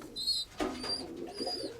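Pigeons cooing in a loft, a few soft rolling coos close by, with faint chirps overhead.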